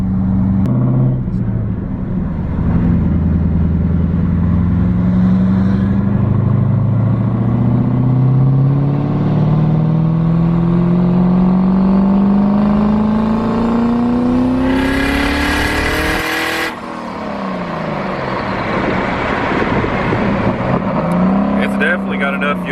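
Turbocharged Ford Crown Victoria with a giant turbo, its engine revving hard as the pitch climbs steadily for about fifteen seconds, then a burst of hiss as boost releases before it drops back to a rumbling idle.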